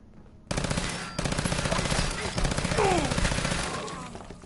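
Rapid automatic gunfire from a modded Fallout 4 playthrough, a dense bursting stream that starts abruptly and stays loud for several seconds, with a brief voice partly under it.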